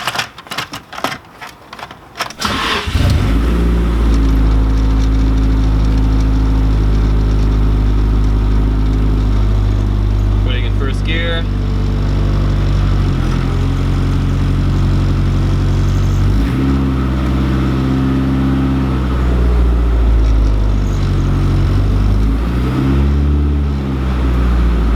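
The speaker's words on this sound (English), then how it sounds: "So I let off the clutch after putting it in first gear. Wheels were spinning" A teal Nissan 240SX in first gear with wheels spinning: a few short revs, then a steady loud engine drone that rises and falls in pitch as the throttle changes, with no speech over it.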